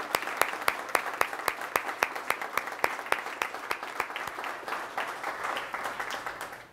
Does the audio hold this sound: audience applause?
yes